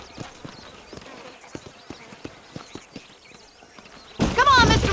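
Horse hooves clip-clop at a steady walking rhythm in the Western video game Red Dead Redemption, a string of moderate, evenly spaced thuds under quiet background sound, ending in a louder burst of noise.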